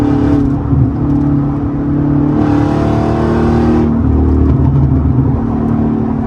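A Dodge Challenger SRT8 392 Scat Pack V8 accelerating hard from the driver's seat, a loud steady roar rising through the revs with a brief surge of intake and exhaust noise, no talk.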